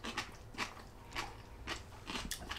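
Crunchy cooked daikon radish topped with spicy fish eggs (mentaiko) being chewed, giving about six evenly spaced crisp crunches close to the mic over a faint low background hum.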